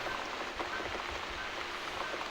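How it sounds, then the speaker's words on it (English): Steady rain falling in the video game The Cat Lady, a dense continuous patter of drops on surfaces, moderately soft, with no voices. "Looks like we've got the rain back."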